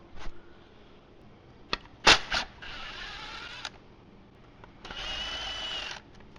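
Ratcheting and turning of T40 Torx bolts being loosened with a 3/8 swivel on a Ford AWD rear viscous coupler, short close mechanical clicks and two longer buzzing bursts, no talk.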